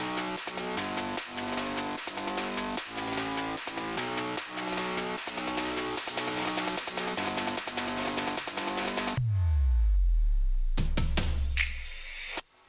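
A future bass build-up made in FL Studio has dense, loud pulsing chords and drums with sweeps that rise steadily. It cuts to a deep falling bass swoop and a few sparse hits near the end.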